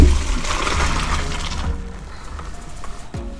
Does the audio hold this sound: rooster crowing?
no